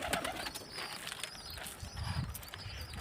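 Caged pigeons coo softly with bursts of wing flapping and shuffling, close by and moderately loud, with no speech.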